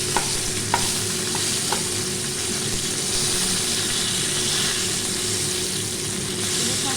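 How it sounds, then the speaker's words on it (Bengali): A hilsa fish head being broken up and fried in hot oil, giving a steady close sizzle with a few sharp scraping stirs of the spatula near the start, continuous and fairly loud. "মাছের মাথাটাকে ভেঙে দেবো, দিয়ে খুব ভালো করে আর একটু ভেজে আমি"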